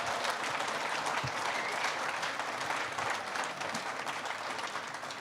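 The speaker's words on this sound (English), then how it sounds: "a big round of applause for all of our speakers tonight" Sustained audience applause for the speakers at a Brew Talks brewing meetup, a dense steady wash of many hands clapping that carries on for several seconds and eases off slightly near the end.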